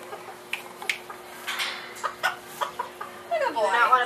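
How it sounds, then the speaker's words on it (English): Serama rooster, a small but aggressive breed, clucking at a school farm day event, a run of short clucks and calls over steady background hum, without talk. "You don't want to put that rooster with other roosters."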